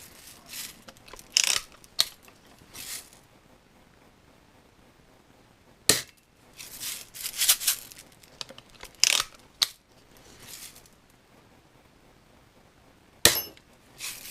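Red Ryder BB gun with a modified trigger, firing several sharp, snappy pops spread across the span with quieter mechanical clicks and handling noises in between, all close up.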